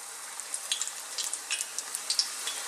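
Vegetable spring rolls frying in hot oil, a faint steady sizzle with small irregular pops and crackles throughout, no voices.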